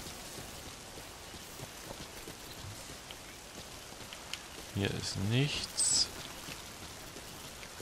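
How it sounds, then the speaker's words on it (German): Steady rain falls in the video game Metal Gear Survive as a continuous soft hiss, while someone briefly speaks German over it. "Okay, es regnet."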